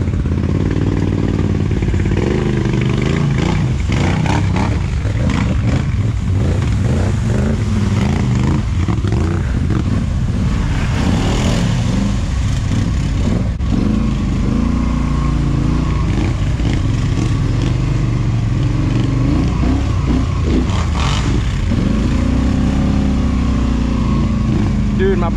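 The engine of a new four-wheeler ATV, an off-road quad, revs loud and close as it churns through deep water. Splashing and clatter mix with the engine roar, and people talk over it.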